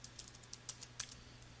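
Quiet keystrokes on a computer keyboard as a password is entered, several light irregular taps over a faint steady hum, with no talking.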